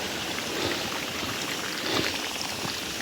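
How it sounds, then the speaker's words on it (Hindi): Water flowing down a small village stream in Bhaderwah, a steady, even rushing and bubbling close by, continuous throughout with no voices. "पानी बह रहा है यहाँ से"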